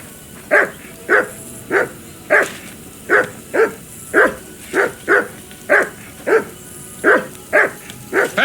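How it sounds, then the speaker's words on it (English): A dog in the game Kingdom Come: Deliverance II barks repeatedly in a steady, evenly spaced rhythm, about fifteen loud, close barks. "For Christ's sake, Henry, call off that damn dog"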